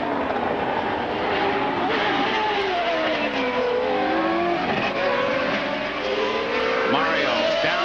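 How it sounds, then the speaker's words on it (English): IndyCar race car engines at Laguna Seca in 1989, several high-pitched engines screaming together with rising and falling pitch as the cars shift and sweep through corners, loud and continuous. "Let's listen, see how those engines are sounding."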